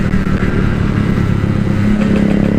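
A two-stroke Yamaha RX King motorcycle revs loudly and close, its steady buzzing engine note rising and holding while riding alongside traffic, with no talking.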